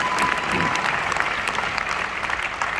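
An audience at a seminar on earning money bursts into sustained clapping, a dense wash of many hands that holds steady and fairly loud for the whole stretch, with no talk over it.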